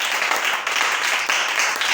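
Congregation applauding the Lord at a church service, dense continuous clapping with a steady, even texture and a few slight swells, no voices standing out.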